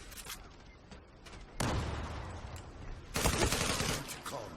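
Gunfire in the online shooter Zula, a ship map: rapid bursts of automatic fire crackle throughout, growing heavier and louder in two surges, with players talking faintly underneath.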